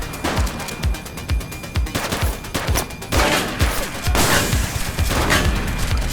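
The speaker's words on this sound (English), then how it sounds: "Shots fired! He's shooting!" Gunfire in The Precinct video game comes as rapid, uneven volleys of pops and bursts that build into a heavier, sustained barrage toward the end, with a voice briefly heard.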